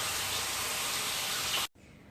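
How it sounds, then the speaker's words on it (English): Bacon grease sizzles in a frying pan as a loud, steady hiss that cuts off abruptly near the end, leaving a faint background. "I put just a tad bit of the bacon grease in there just to hear that sizzle"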